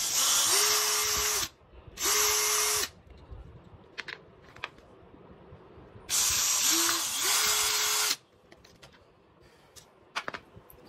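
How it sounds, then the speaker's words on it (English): Power drill boring holes through a car pedal, a Honda Civic rest pedal, to rivet on a stainless steel cover: two pairs of loud, sustained whining bursts separated by quiet gaps with light handling clicks. "Now we are drilling holes on our rest paddle for riveting the stainless steel paddle cover that we just created."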